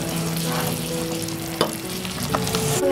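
Raw mango filling with raisins and dates stirred in a pan, a steady low sizzle under a few sharp scrapes and clicks of the spoon against the metal, close and fairly loud throughout.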